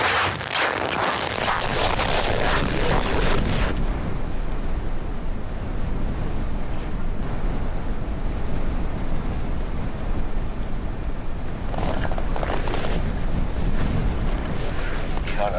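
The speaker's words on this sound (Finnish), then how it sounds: "Tuuli on kääntynyt ihan vastakkaisesta suunnasta. Sehän tarkoittaa sitä, että vasta tuuleen mennään." Headwind gusting against the microphone while kick-sledding across frozen Lake Baikal, a steady rushing buffet throughout with louder bursts at the start and near the end, outdoors on open ice.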